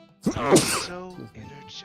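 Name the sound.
sneeze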